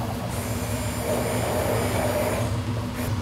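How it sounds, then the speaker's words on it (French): A blender whirs steadily and loudly, mixing a coffee sabayon sauce with coffee infusion and sandwich bread, a continuous motor drone with no talking. "Je vais le mixer."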